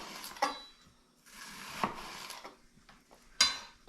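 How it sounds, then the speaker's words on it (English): Knife slicing a peeled onion very thin on a board, three sharp cutting taps spaced about 1.5 seconds apart with soft scraping between, close and fairly quiet. "I peeled an onion, and I'll show you, I'm just slicing it very thin."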